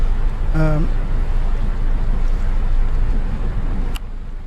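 A ship's engine runs with the throttle open in the Nautic XP ship simulator game, a steady loud low rumble and wash that holds throughout, with a brief tonal chirp near the start and a faint click near the end.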